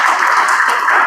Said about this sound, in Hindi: यस, जोरदार तालियां हो जाए एक बार सर।